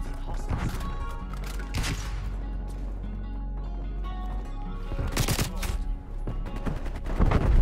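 FFAR rifle fire in Black Ops Cold War: repeated loud automatic bursts with sharp cracks over continuous game noise, clustered in several volleys, while a player talks over the action.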